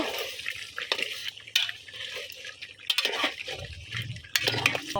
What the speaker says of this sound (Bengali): এখন মাংসের সাথে আলুটা ভালোভাবে মিশাই দিব